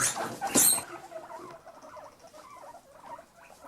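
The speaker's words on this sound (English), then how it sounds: "Sylvester still trying to intervene but also teeth chatter" Guinea pigs chase and scuffle close by, with a sharp squeak early on, then rapid soft pattering and faint teeth-chattering clicks continuing without talk.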